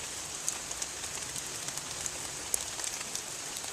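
Steady rain falling outdoors, a soft continuous hiss with scattered sharper drop taps, fairly faint and even throughout with no voices.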